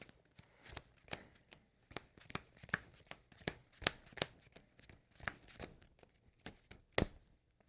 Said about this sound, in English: Shuffling some new stuff in.